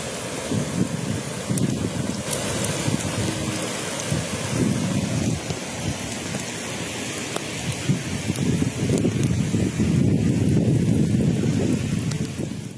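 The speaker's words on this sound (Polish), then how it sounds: "Ogromna burza nad Kaliszem, której towarzyszyła ulewa." A heavy thunderstorm breaks over the city of Kalisz with a downpour flooding the streets, the steady roar of rain carrying rumbles of thunder and gusts of wind buffeting the microphone throughout.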